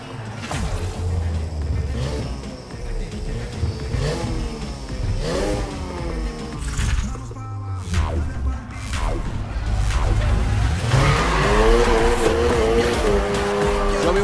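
Car engine in the NFS Heat racing game revving hard under throttle while drifting, with loud squealing tires and skidding across a steady, continuous run; the engine note rises and falls with each slide.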